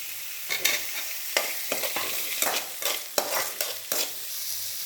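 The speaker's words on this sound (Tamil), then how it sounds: "இது நல்லா வதக்கணும் இந்த அளவுக்கு வெங்காயம் வதங்கினா போதும் அடுத்தது தக்காளி நான் ஒரு தக்காளி போடுறேன்" Onion and garlic, then tomato, sautéed in a pan for beetroot chutney: a steady oily sizzle broken by repeated loud scraping strokes of a spoon against the pan, close and alone with no talk.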